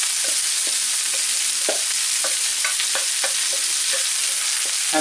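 Rice being stirred and fried in a hot pan, with a loud, constant sizzle and irregular scraping knocks of the utensil close by.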